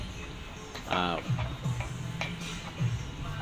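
Hair bleach powder mixed with 12% developer in a bowl, heard as intermittent scraping and clinking strokes of a stirring tool, with brief low voice fragments between them.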